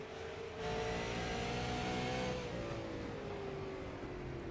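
The number 80 race car's engine revs hard on the track, a steady loud mid-pitched roar that climbs briefly and then eases slightly, with other cars faintly behind.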